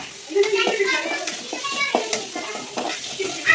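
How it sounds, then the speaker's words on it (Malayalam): Green chillies and onion fry in hot oil with a close, steady sizzle and repeated stirring scrapes, while children's voices and talk carry on in the background. "നമ്മളിപ്പോൾ മുട്ടത്തൊരു നമ്മൾ കുറച്ച് പച്ചമുളക് സബോളയൊക്കെ ഇട്ട് ഫ്രൈ ചെയ്ത് കൊടുക്കണം."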